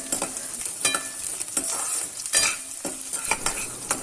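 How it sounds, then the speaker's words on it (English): Garlic sizzling in hot oil on a high flame close up, with repeated scraping strokes of a spatula stirring the pan in an uneven rhythm. "We'll saute the garlic till it becomes golden brown, and this is getting cooked on a high flame"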